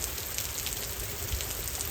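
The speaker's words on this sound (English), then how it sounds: "I don't know how long this rain is going to last." Steady rain falls on a garden during a break from fence work, a dense, even hiss of drops that stays constant and fairly close, with no voices.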